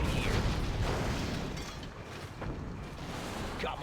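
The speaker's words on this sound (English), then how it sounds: "Ah, explosions. Command & Conquer General's splendid explosion simulator." Explosions in the real-time strategy game Command & Conquer Generals, a continuous rumbling barrage of booms and blasts with heavy low-end, loud and sustained throughout.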